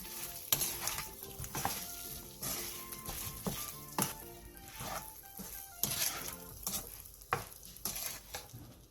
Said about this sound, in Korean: 마지막으로 청양고추와 통깨를 넣고 가볍게 뒤적여 마무리해주세요.